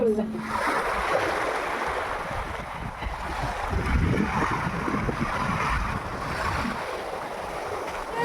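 Sea waves wash onto the shore at Mousuni Island, a steady broadband surf roar with gusting wind noise on the microphone and faint voices.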